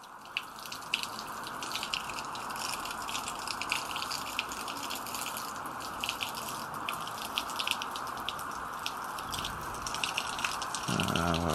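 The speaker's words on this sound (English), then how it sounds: "if I push water straight into it, then we got water coming out the pipe." Water pushed through a pipe in a small demonstration gushes out steadily, a quiet continuous splashing flow like a running tap, with a brief change in sound near the end and no talking.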